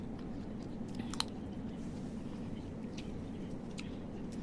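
Soft, close chewing and occasional crunches of a sweet, crunchy Jollibee salad, faint over a steady low background hum.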